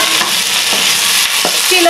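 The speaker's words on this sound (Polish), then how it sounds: "Dodajemy na patelnię nasze pokrojone na połóweczki pomidorki koktajlowe." Halved cherry tomatoes and red onion sizzle loudly in a frying pan, with a steady hiss broken by a few soft scrapes of stirring.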